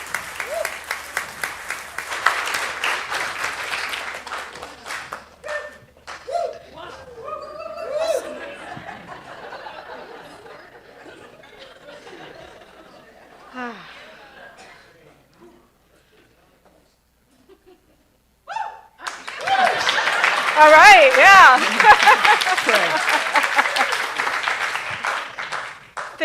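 A church congregation at a celebration service claps and cheers in two bursts, with laughter and chatter in a quieter middle stretch, a short spoken remark, a near-silent pause, then a louder wave of applause and whoops.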